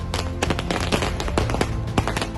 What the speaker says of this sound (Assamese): বোমানিত সমদল কৰি ফটকা ফুটাই অঞ্চলবাসীৰ আনন্দ উল্লাস।